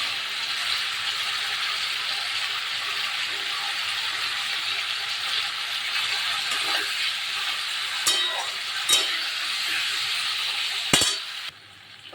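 Parshe fish sautéing in a pan with spices makes a steady, loud, close sizzle throughout, with a few clinks of a utensil near the end before the hiss drops away.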